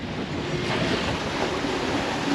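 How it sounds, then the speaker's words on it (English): Strong wind and rushing waves surround a sailboat under way on the Atlantic Ocean, a loud, continuous, dense wash of water and wind noise close to the microphone, with no talking. "We got good wind here."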